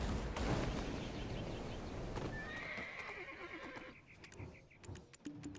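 Horse whinnying loudly in the Black Desert video game, a long neigh followed by hoof clip-clops and busy game effects, with no talk.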